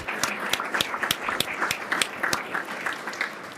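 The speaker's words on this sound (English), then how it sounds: "Let's give another round of applause to the Posners." An audience at a family business leadership talk gives a round of applause, a moderate crowd clapping with some sharp individual claps standing out over the steady patter.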